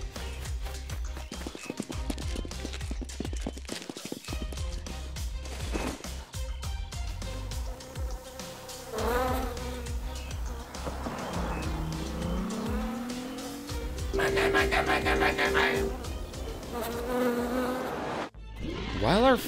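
Buzzing SCP bees in a Roblox Winnie the Pooh horror game drone and whine over a busy game soundtrack, mixed with vehicle-like rumbles and sweeping tones at fairly loud, constant volume.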